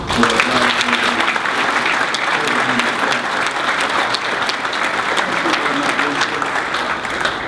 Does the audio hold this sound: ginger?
no